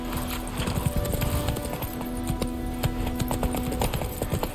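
A horse gallops in The Witcher 3, the rapid hoofbeats thudding in close, steady clusters over a constant outdoor hum with faint tonal background music.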